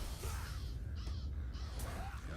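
A crow in a video game caws two or three times in a forest scene, with rough, distant-sounding calls over a low steady ambient rumble.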